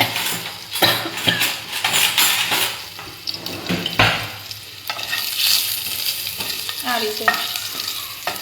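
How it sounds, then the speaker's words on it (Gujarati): Garlic fries in a pan with oil, giving a soft crackling sizzle under repeated scraping stirs and light clinks of a utensil against the pan; a brief spoken word is heard. "થોડું ખાલી બ્રાઉન થાય ને લસણ ત્યાં સુધી ફ્રાય કરવાનું છે એને."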